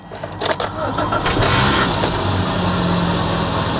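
A Kia Optima engine cranks with a few sharp sputters, catches, and settles into a steady running idle close by.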